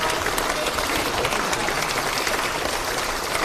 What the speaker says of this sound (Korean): 예, 박수 한번, 예.